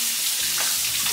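Red snapper fish frying in oil, a steady close hiss and crackle of sizzling with no talk.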